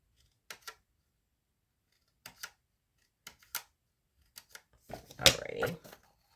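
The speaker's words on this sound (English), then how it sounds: "my little scissors, I don't think can handle cutting so many of these" Several short, crisp snips from small scissors cutting paper, spaced apart, then a louder burst of rustling and crunching paper near the end, close and clear with no talking.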